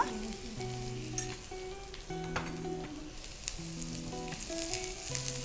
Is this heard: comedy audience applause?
no